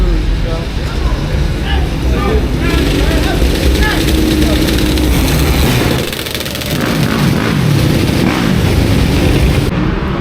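A motorbike roars past on a Philadelphia street, loud and close, its engine note swelling and fading, with a brief dip midway, while people talk over it.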